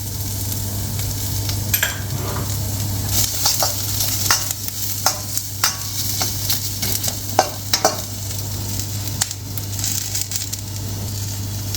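Vegetables sauté in a hot pan for Chinese spicy vegetarian stir-fry rice, giving a steady close sizzle broken by repeated scraping and tossing strokes, under a constant low hum.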